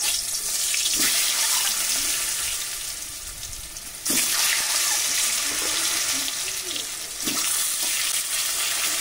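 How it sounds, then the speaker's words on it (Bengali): Eggs slit and seasoned with turmeric fry in hot oil in a wok for an egg curry, giving a loud continuous sizzle that flares sharply twice when the eggs are moved. "ডিম একটু হালকা করে ভাজা ভাজা করে নেব।"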